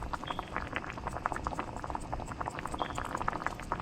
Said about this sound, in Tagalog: pakuluan lang po natin ito